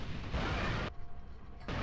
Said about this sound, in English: corn charge explosions or just explosions in general are a lot